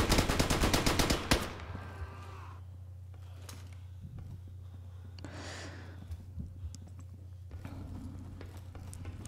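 Gunfire in the Roblox shooter Operation Scorpion: a fast, loud burst of automatic shots at the start, then quieter scattered single shots and footsteps over a low steady hum.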